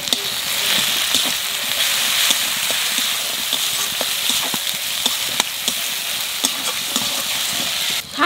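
Onion, ginger-garlic paste and green chili paste frying in hot oil, a steady loud sizzle with the clatter and scrape of a spatula stirring throughout.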